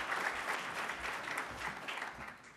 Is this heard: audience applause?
yes